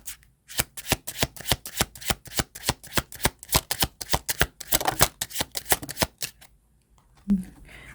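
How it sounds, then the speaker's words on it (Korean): Tarot cards riffled and drawn during a reading, a long run of crisp, rapid snapping shuffles close to the mic, then a brief pause and a softer rustle as a card is pulled. "한번 카드를 뽑아서 보도록 하겠습니다"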